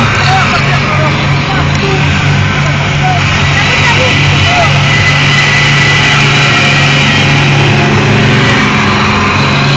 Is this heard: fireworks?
no